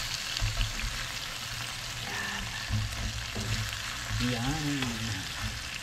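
Beef steak and onions frying in a pan, stirred so the onions don't burn, with a steady broadband sizzle throughout, a few scraping stirs, and a brief spoken word plus a faint background voice partway through.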